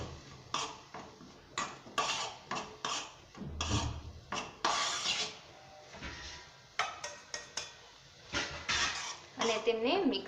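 Crumbled khaman is stirred in a pan, giving irregular scraping and clinking strokes of a utensil against metal at close range. Between strokes, a voice speaks quietly.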